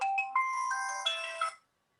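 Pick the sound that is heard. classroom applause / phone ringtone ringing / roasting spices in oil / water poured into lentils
phone ringtone ringing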